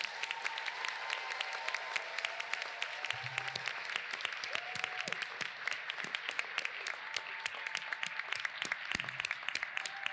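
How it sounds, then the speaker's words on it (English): Sustained applause from a graduating class and audience at a white coat ceremony, dense steady clapping filling the whole stretch at moderate distance with a few faint tonal sounds underneath. "give a roaring round of applause to your family, friends, and cheerleaders for all the support"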